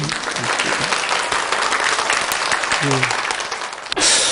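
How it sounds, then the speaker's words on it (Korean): A hall full of parents at an education lecture claps continuously and fairly loudly, a thick, even roar of hands that ends in a brief pause and a louder closing burst. "박수를 많이 치시네요. 한 번 더 쳐보십시오."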